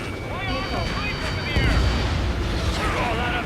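Missile explosions in the jet combat game Ace Combat 7 boom as a deep, steady rumble that swells midway, while radio voices talk over the blasts.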